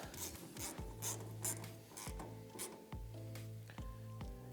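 A ratchet tightens a screw on the taillight of a 1967-1972 Chevy C10 pickup, producing several short bursts of rapid clicking with pauses between strokes, close by.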